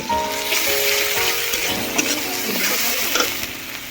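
Tomato and chili powder are fried and stirred in a pan for a fish curry, with a close, moderately loud sizzle under scraping spoon strokes and a few soft knocks.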